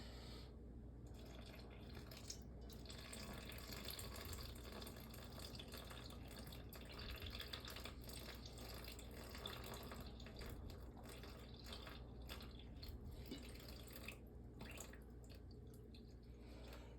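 Tap water runs steadily from a New York City kitchen faucet into a container, a continuous close splashing stream for the whole stretch with no talking.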